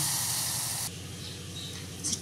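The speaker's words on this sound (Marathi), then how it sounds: "इकडे चहा उकळतो" Tea boiling on a home stove gives a steady hiss and bubbling, loud at first and then settling to a softer simmer.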